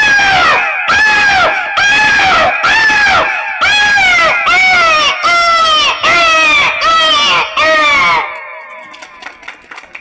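A voice imitates a crow's caw at a memorial-day gathering, giving about nine loud, harsh, evenly spaced calls before fading into faint background crowd noise.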